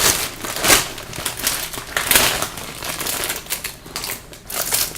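Plastic bags being handled and set down while preparing drills for a blue-eyed tiger setup, giving repeated close crinkling and rustling bursts over about five seconds, with no talking.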